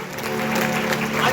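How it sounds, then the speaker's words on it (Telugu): A congregation at a Christmas celebration in Calvary Ministries church bursts into loud, dense clapping for a short moment, with a steady electrical hum underneath. "గట్టిగా చప్పట్లు కొట్టాడు"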